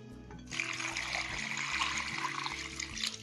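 About a litre of water gushes steadily from a container onto sliced potatoes in a bowl, a close, continuous pouring splash that starts abruptly and runs without speech.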